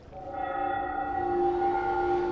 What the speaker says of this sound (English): The church bell rings, alerting every single walker to a location.